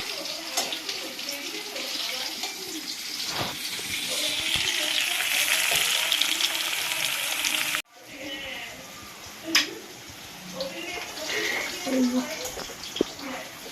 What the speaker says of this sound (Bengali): রান্না হচ্ছে, আজকে একটু চিকেন কষা করছি